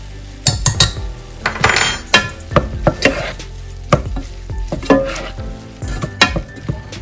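Chopped vegetables for a healthy veg soup cooking in a pot, with repeated sharp clinks and scrapes of a spoon stirring against the metal and a soft sizzle underneath, irregular and close.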